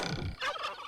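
A wild turkey gobbles in a quick, rattling burst, fairly clear and close, cutting off after under a second.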